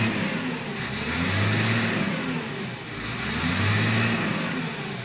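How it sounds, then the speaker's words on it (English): A Caterpillar 950H wheel loader engine runs close by, its steady drone swelling in two slow revs and easing back between them, with no voices. "the sound of the engine is normal."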